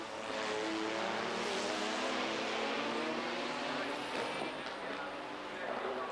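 Rupp Porsche GT race cars, 1997 FIA GT round at Helsinki, roaring past on a street circuit, a sustained loud engine drone that swells and holds for several seconds with commentary talking over it.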